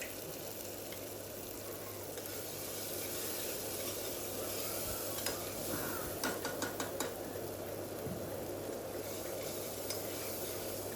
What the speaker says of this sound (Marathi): आता हा मसाला आपल्याला तेल सुटस्तोपर्यंत परतून घ्यायचा आहे